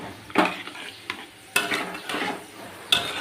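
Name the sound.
stirring gathi kochu curry masala in a pan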